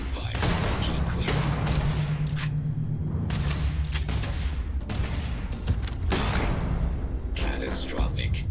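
Gunfire in the video game Starfield sounds as rapid cracking shots and bursts over a dense, loud game mix, with voices talking throughout.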